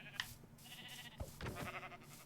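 A Minecraft sheep bleats a few times in a short, wavering game sound, fairly faint, with other game noises around it.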